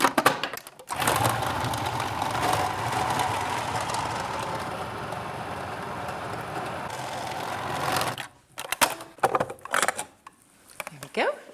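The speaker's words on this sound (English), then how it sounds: "The fish is going to get kind of whizzed up in the food processor" A food processor blends a fish mixture for spicy fishcakes, giving a steady loud whirring motor drone for about seven seconds before cutting off, followed by a few clattering knocks and handling sounds.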